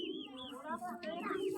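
A pigeon coos softly in close, low murmuring phrases, with faint voices mixed in.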